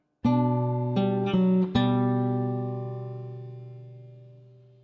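An acoustic guitar plays a measure of Minuet in G: several plucked notes in quick succession over a sustained open-string bass, then the final chord rings and slowly decays, clean and close with no talking.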